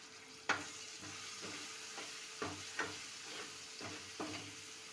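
Chana masala spices fry in a pan under a steady hiss while a spoon stirs and scrapes, giving several irregular knocks over the sizzle.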